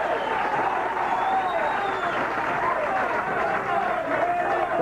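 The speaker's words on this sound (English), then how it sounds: "And you can hear the crowd reacting." Spectators at a 1983 candlepin bowling championship telecast react with a continuous murmur of crowd noise and scattered clapping, moderately loud and sustained, with voices mixed into the din.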